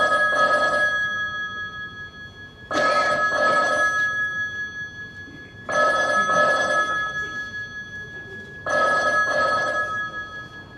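An old-style telephone bell rings in four evenly spaced bursts, each a loud double trill with short gaps between, heard clearly on its own.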